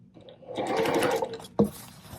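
A sewing machine stitches quilt pieces for a Dresden quilt with a brief, fast whirring run of about a second, close and clear, ending with a sharp mechanical clunk.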